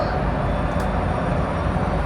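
Steady low rumble and rolling noise from inside a passenger train in the Bay Area, California, a constant loud drone with no talking.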